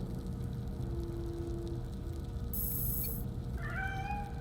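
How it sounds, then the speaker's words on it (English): A stray cat in the Gotham Knights video game gives a faint meow near the end over a steady low ambient hum. "Aw, that sounds like a stray cat."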